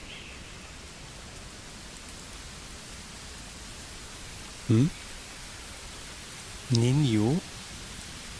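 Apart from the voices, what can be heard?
rain from video game Pathfinder: Wrath of the Righteous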